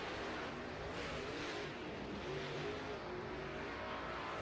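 A dirt late model race car circles the track at Ponderosa during qualifying, a steady distant engine roar, faint and washed out with no voices.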